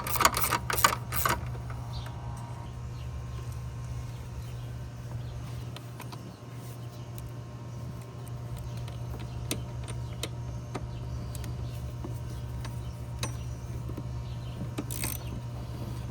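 Quarter-inch ratchet driving in an engine mount bolt on a BMW 228i, soft rapid clicking in a short burst at the start, then faint sparse ticks over a steady low hum.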